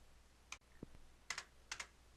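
Keystrokes on a computer keyboard in Visual Studio, including presses of the Tab key: a handful of quiet, crisp clicks, one single tap followed by two closely spaced pairs, with no talking.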